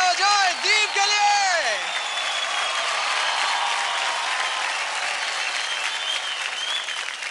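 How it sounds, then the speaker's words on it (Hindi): Studio audience applause for a child's dance performance on a TV dance show: a host talks briefly at the start, then steady, dense clapping continues loud and sustained to the end. "ज़ोरदार तालियां बजाओ दीप के लिए।"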